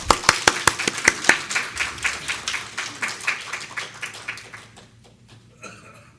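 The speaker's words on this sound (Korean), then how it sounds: "우리 임택순 목사님 나오실 때 우리 환영하는 박수 드리겠습니다." A church congregation claps to welcome a pastor to the front, with sharp, loud hand claps at first that settle into a steady run of applause and fade out toward the end.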